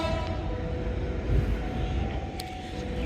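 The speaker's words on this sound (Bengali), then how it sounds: "ওই পাশ থেকে ট্রেন আসছে" A train approaching, heard from a rooftop as a steady low rumble of rolling wagons with a faint horn-like tone running through it, fairly distant and continuous.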